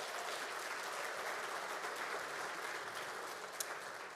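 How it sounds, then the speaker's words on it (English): An audience at a school district State of the District event applauds students with a dense, even wash of clapping that holds steady from start to finish, with no voices over it. "Let's give them a round of applause"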